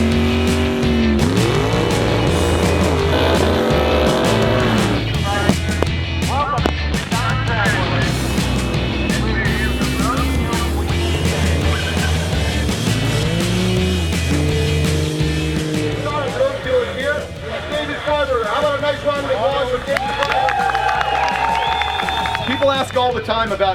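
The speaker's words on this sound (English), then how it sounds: "that's the Roadkill muscle truck, and I'm at the Roadkill Zip-Tie Drags." At the Roadkill Zip-Tie Drags, a muscle truck revs and races with rising and falling engine roar alongside other loud vehicle noise, while people talk over it throughout.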